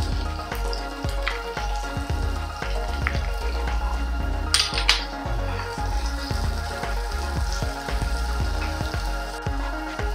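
Onion frying in a pan for a queenfish curry, a loud close sizzle with constant crackle and frequent stirring knocks in a quick irregular rhythm.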